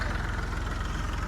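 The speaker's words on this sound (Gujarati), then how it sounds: "હાલ જ ટ્રેક્ટર ચલાવું" A tractor engine running at a steady idle, a continuous low, throbbing rumble with a regular pulse, close and fairly loud, with no talk over it.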